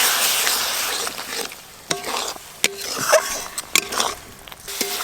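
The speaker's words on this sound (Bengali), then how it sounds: "মাংস রান্না করতে গেলে মশলা যেরকম করে কষতে হয় সেরকমভাবে মশলা কষে নেব।" Spice paste of chili, turmeric, cumin and coriander powders with a splash of water cooks in a pan, giving a soft steady sizzle with intermittent stirring scrapes and clinks of the spoon against the pan.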